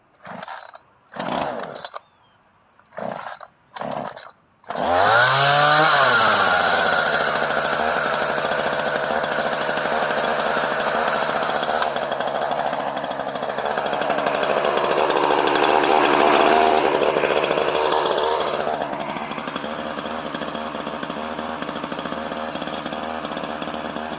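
A Ryobi 14-inch 3714 chainsaw is cranked on full choke with several short pull-cord tugs, then fires and revs up, running loud and continuous with the engine speed rising and falling before holding at a high idle.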